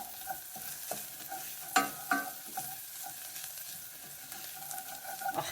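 Garlic frying in a pan while being stirred, a soft sizzle with gentle scraping strokes and occasional sharper clinks of the utensil against the pan, fairly quiet.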